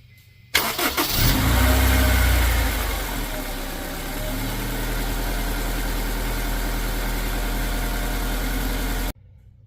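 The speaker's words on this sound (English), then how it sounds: "let's go ahead and try to fire up the vehicle" A car engine jump-started with a TOPDON JS3000 cranks briefly, catches with a loud surge and revs before settling into a steady, close idle that hums on until it cuts off.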